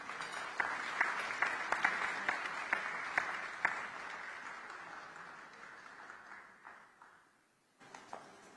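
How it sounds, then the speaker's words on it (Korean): Audience applause at a community gathering in Singapore after a music medley, with scattered claps and several sharp accents that soften and die away, followed by a brief pause and a few faint claps. "여러분 큰 박수 부탁드립니다."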